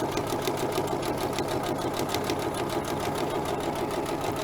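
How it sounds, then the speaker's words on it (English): A sewing machine runs a steady, continuous stitch along the long edge of fabric bunting with freemotion embroidered appliqué, a close, even mechanical whir with fast regular needle pulses and no pauses. "I'm sewing that long edge, and I'm going to stop on the corner."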